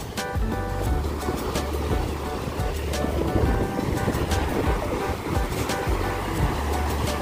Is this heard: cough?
no